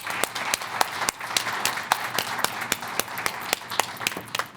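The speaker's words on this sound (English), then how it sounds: "Let's give them a round of applause." Audience applause in a high school board meeting hall welcoming students, steady dense clapping with a few sharper individual claps standing out, fairly loud and continuous throughout.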